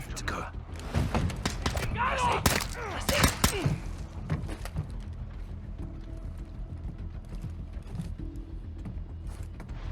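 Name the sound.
gunshots in video game Call of Duty: Modern Warfare II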